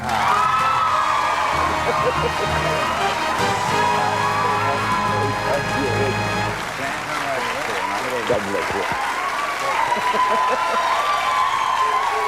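Studio audience at a televised tribute show applauding and cheering loudly and continuously, with whoops and shouts rising over sustained clapping, then briefly settling before swelling again, with some speech mixed in.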